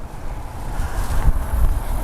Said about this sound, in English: Apologize, it's fairly windy out here,